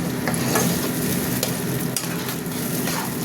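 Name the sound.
stirring spice masala frying in pan for malai chicken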